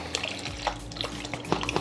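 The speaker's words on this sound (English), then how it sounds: "We're gonna take the remaining 2 cups of our chicken broth, and we're gonna pour it right on the flour." Chicken broth poured onto flour, splashing and trickling in an uneven, close stream of small liquid splats and drips.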